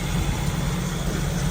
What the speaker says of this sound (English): Engine runs great.